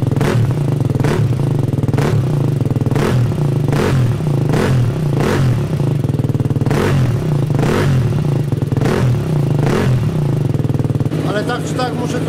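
Motorcycle engine warming up in a garage, a steady loud idle with regular revving pulses about once a second throughout, ending with a brief clatter.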